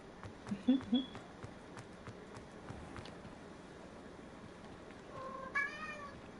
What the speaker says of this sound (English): Baby cat, what's the matter?